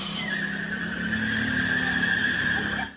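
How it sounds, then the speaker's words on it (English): Car tires screech loudly and steadily as a car crashes into a hospital emergency room in Austin, Texas, a sustained squeal over engine roar for about three seconds before cutting off. "A car crashed into an emergency room in Austin, the tires screeching and spinning out of control"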